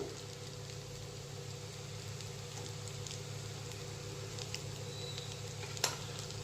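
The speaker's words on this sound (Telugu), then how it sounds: "ఇప్పుడు రివర్స్ చేసి ఫ్రై చేసుకుందాము" Bitter gourd slices with turmeric frying in a pan, giving a soft, even sizzle over a low steady hum, with one small clack near the end.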